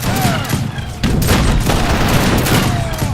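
Dense artillery and massed musket fire crackle through an Age of Empires 3 battle, loud and continuous with overlapping volleys and booms and no pauses.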